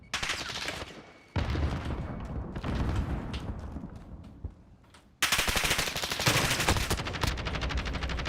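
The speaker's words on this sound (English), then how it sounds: "Like, I'm shooting at nothing." Rapid automatic gunfire in a Call of Duty game, dense bursts of shots with a brief lull, then another loud sustained burst up close.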